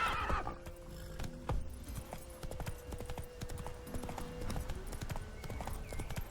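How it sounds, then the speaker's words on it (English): A horse gallops in The Witcher 3 Wild Hunt, rapid rhythmic hoofbeats clip-clopping steadily and fairly close throughout, with a neigh near the start. "ese caballo está como raro"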